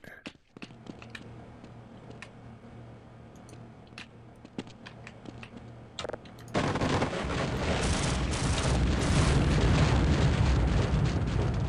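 Rocket explosions in Half-Life: scattered sharp bangs over a low hum, then a sudden loud roaring blast that swells into a sustained, dense rumble filling the rest of the moment.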